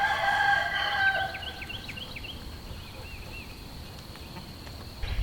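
A homestead rooster crows at a distance over quiet outdoor ambience, a single drawn-out call followed by scattered faint bird chirps.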